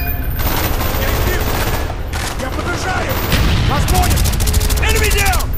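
Gunfire in the video game Call of Duty Black Ops, a dense, steady barrage of shots and bursts filling the whole stretch, with radio-style voices talking over the fighting.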